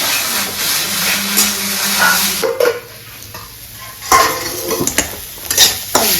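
Food fries in a pan, giving a loud sizzle and crackle mixed with stirring and clinks of a utensil against the metal, which fade and return in bursts.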